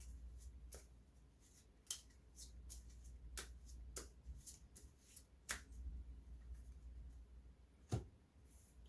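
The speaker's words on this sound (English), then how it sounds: "shuffle them into the enemy deck here" Playing cards being shuffled into an enemy deck during a tabletop board game, soft riffling and shuffling with sharp card snaps and taps scattered throughout, close up and fairly quiet with no speech.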